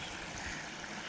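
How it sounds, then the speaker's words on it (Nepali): Water from a stream flows steadily outdoors, a soft continuous rush and trickle with no voices. "पानी बगेको सुन्नु भएको छ कि छैन"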